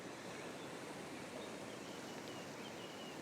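A river flowing beside a rainy campsite, a steady broadband rush of water that fills the whole clip evenly and loudly, with no other distinct sounds standing out.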